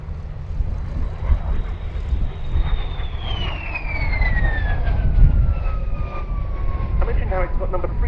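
A vintage de Havilland Vampire FB.II jet passes overhead at Duxford, its engine whine sliding smoothly downward in pitch as it flies by over a steady background rumble.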